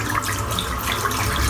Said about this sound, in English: I'll just rinse this brush out.